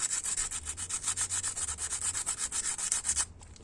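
Steady back-and-forth sanding rasps over a screwdriver nick on a Brembo rear brake caliper from an Evo 8-9, about twenty quick, even scratchy strokes up close before stopping.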